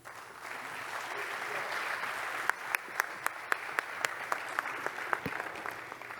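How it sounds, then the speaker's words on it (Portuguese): An audience applauds at a church event, a soft steady patter of clapping with a few sharp, close claps standing out in a loose rhythm near the end. "Uma salva de palmas."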